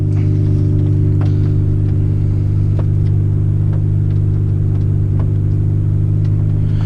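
Honda CRX running down the road from inside the cabin, a loud steady engine drone and road rumble, close and constant, with faint ticks and rattles over it and no talking.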